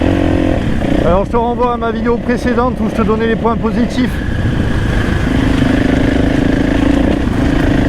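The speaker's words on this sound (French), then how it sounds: "C'est un moteur longue course, donc ça vibre forcément." KTM 500 EXC-F 2024 enduro motorcycle with a long-stroke engine idling and revving on a wet, rainy trail ride, a loud steady engine drone under continuous nearby talk.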